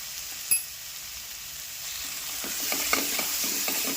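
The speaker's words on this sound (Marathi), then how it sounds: "घालून परतायचे आपल्याला छान मसाला" Turmeric, red chili and onion-garlic masala sauté in a pan with a constant close sizzle, one sharp knock near the start, and a louder stirring crackle later on.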